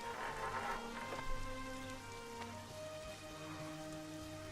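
Steady rain in The Witcher video game pattering on a surface, soft and continuous, with faint tonal hums layered underneath.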